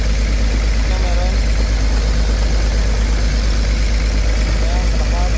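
A Komatsu PC220-8 excavator engine idles close by with a misfire, giving a loud, continuous low rumble with an uneven, pulsing beat.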